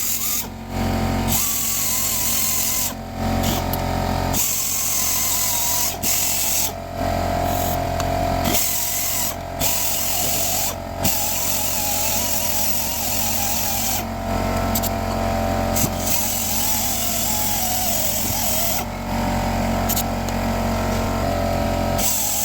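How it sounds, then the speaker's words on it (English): A whizzy wheel power tool grinds continuously against the rear brake surfaces of a 2019 Ford Escape AWD, a loud, steady whine that drops out briefly several times as contact is broken. "Let's get the whizzy wheel. Clean up these surfaces."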